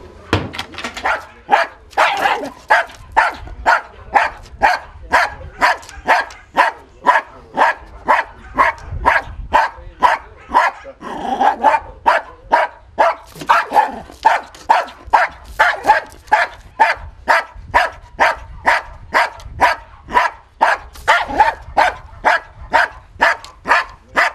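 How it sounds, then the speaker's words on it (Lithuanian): A terrier barks at a fox rapidly and relentlessly, sharp close barks repeating in a steady rhythm for a long stretch with hardly a pause. "terjeras turi aršiai aploti lapę, nebijoti jos"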